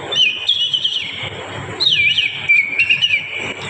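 A man mimics sparrows and other birds with his voice, producing two clear runs of high, warbling chirps and whistled trills, loud and close with no other sound over them.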